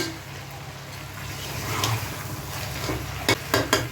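Chicken wings tossed with masala in a hot pan for a Bengali chicken, potato and pointed gourd curry give off a steady close sizzle, with stirring scrapes and a few sharp utensil clinks near the end.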